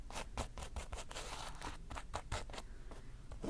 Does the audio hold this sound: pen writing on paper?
yes